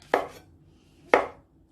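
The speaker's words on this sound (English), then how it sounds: "cut them in thin slices" Two crisp knife strokes slicing chestnut mushrooms thinly on a cutting board, about a second apart, each a sharp close thud with a short tail, no speech.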